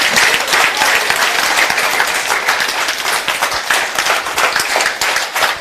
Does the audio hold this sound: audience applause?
yes